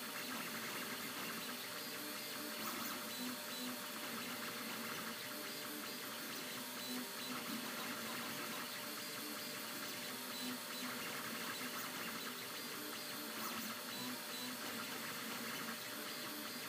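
A MendelMax 2 3D printer converted to a MendelMax 3 prints a test cube, giving a steady, faint mechanical whir and hum that runs unbroken with no speech.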